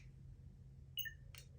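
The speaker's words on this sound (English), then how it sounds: "So we heard the beep." Two quick electronic beeps from a toy lightsaber, a higher tone then a slightly lower one, followed by a short burst of noise over a low hum.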